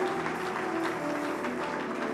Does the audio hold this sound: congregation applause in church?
yes